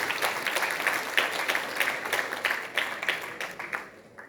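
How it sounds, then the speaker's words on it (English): An audience applauds the agriculture ministry at an Indian hotel and restaurant industry event, a full crowd clapping briskly and steadily for about four seconds before tapering off at the end. "A big clap for the agriculture ministry for holding this big event."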